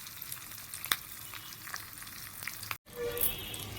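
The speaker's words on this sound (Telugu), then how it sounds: "పచ్చిమిరపకాయలు వేసుకునేటప్పుడు జాగ్రత్తగా వేసుకోండి, ఎందుకంటే అవి తగిలి మన మొహం మీదనే పడతాయి." Green chillies tempering in hot oil for lemon rice, a close crackling sizzle with sharp pops and spatters over a steady frying hiss, broken by a brief gap near the end.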